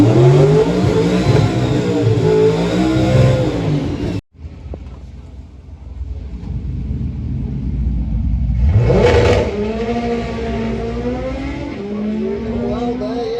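A front-wheel-drive doorslammer drag car making a run at Santa Pod, its engine roaring loud and close and then cutting out abruptly before climbing again, with a commentator talking over the noise.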